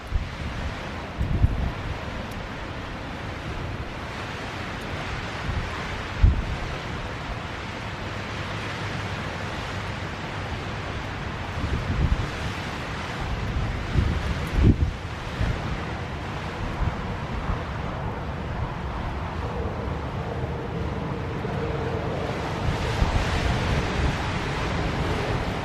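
Strong wind gusting outdoors beside the remains of an old plank road over sand, a steady broadband roar with louder gusts, wind buffeting the microphone, no voices.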